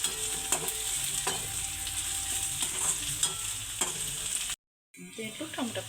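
Okra frying in a pan for a Punjabi-style masala curry, a bright steady sizzle with occasional spoon taps and stirs, close up; it drops out briefly near the end, then returns with crackling.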